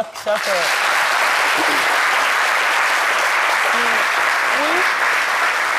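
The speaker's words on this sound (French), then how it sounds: "On m'applaudit" Studio audience applause on a midday television programme, a loud sustained burst of clapping that fills the clip, with a voice briefly audible underneath near the start.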